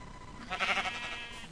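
A Minecraft sheep bleating as it is killed, a single short wavering bleat rising and fading over about a second, close and clear with no talk.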